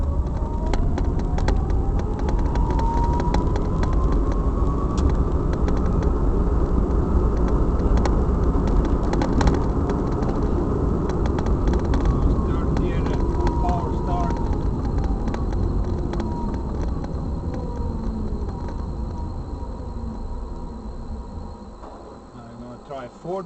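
Converted electric car, formerly a fuel car, pulling away in third gear at full power, a steady loud drive hum with rising motor whine under continuous wind and road noise, fading slightly near the end.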